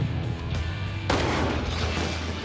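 A single loud sniper rifle shot cracks across an abandoned airfield, its broad blast cutting in suddenly over a low rumble and trailing off into a long, dense outdoor echo.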